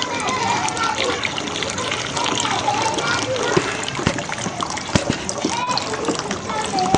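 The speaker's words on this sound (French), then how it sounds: "On va verser la base sur le corps gras." Lye solution poured onto fat during soap making, a continuous gushing, splashing pour that runs for several seconds with small clinks, while a voice speaks over it.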